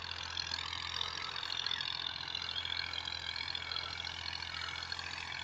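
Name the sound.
Massey Ferguson 240 tractor engine running with rotavator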